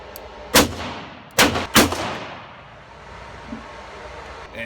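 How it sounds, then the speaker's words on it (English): Shots from Ruger LCR and Smith & Wesson 1904 revolvers ring out as three sharp, loud reports, one alone and then two in quick succession, each with a rumbling decay, followed by quieter ambient noise. "This is me shooting with the LCR"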